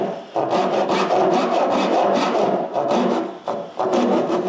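Hand saw cutting a dovetail in mahogany or maple board, steady rhythmic rasping strokes close up, loud and continuous with brief pauses between runs, no voices.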